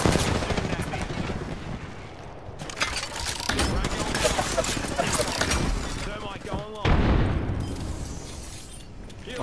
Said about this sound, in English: A second squad is firing us.